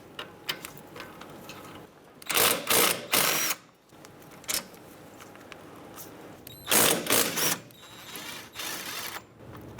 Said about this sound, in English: now we're going to use a 14mm to loosen up our caliper bracket